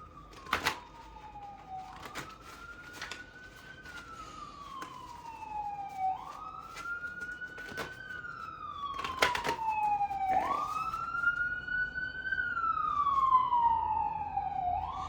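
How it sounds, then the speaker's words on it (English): A wailing ambulance siren rises and falls repeatedly, growing louder as it passes by, with some sharp clicks and taps mixed in. "The ambulance, I'm sure y'all heard, super loud, just went by."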